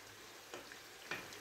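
Oil, tomato paste and water in a frying pan for stuffed peppers give a soft, steady sizzle, with two brief louder spits rising out of the quiet crackle.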